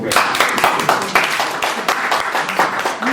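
A concert audience at the Zénith in Paris claps across the whole stretch, a dense burst of applause that stays loud throughout without a break.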